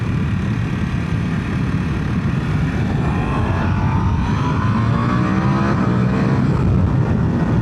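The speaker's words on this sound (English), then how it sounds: "Definitely sounds cool as shit once you're close and hard on the throttle." A 2025 Ducati Panigale V4 motorcycle is ridden hard on the throttle along a road, its engine roaring loud and close with rising, sweeping revs over heavy wind rush and no pauses.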